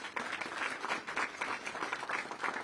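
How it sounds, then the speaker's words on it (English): A seated audience at a city government gun violence prevention event claps for job program participants, a brief, moderately loud patter of applause in a room. "Can we give them a round of applause?"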